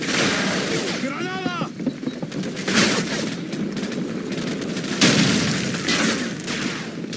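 In Call of Duty: Modern Warfare, a grenade blast and bursts of rapid gunfire ring out in a firefight, with booming explosions near the start, middle and end, and shouted voices mixed in.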